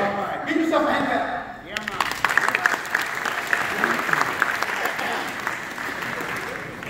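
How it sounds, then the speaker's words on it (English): Audience at a school district transportation department back-to-school convocation breaks into applause after a brief stretch of talk, dense clapping swelling and holding steady to the end. "Give yourself a hand clap."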